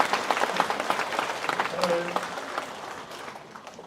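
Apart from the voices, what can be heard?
congregation applauding in church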